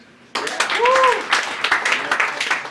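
An audience at a comedy show breaks into sudden applause, a burst of clapping starting abruptly and continuing with scattered whoops and voices mixed in.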